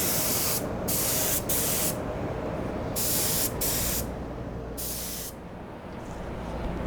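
Repeated short bursts of aerosol spray paint dusting a final top coat onto a Mad Max Pursuit Special Interceptor model car, loud and close, with brief pauses between passes.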